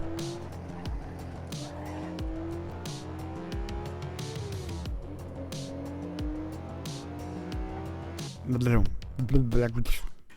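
A Ferrari in the GTA video game roaring at high speed, engine tone rising and falling through gear changes with tire squeals and skids, loud and close, someone talking over it.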